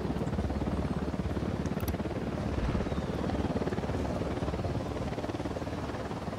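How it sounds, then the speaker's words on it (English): Helicopter in the video game Ghost Recon Wildlands, a loud continuous rotor thump with rapid rhythmic chopping pulses and engine whine, holding steady and close throughout without speech. "We got a chopper."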